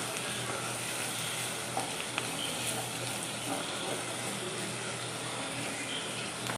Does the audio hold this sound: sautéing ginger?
yes